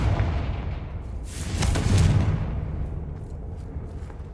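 A Confringo explosive spell blast in Hogwarts Legacy, a heavy booming burst rising over a rumbling low background and fading into a sustained roar.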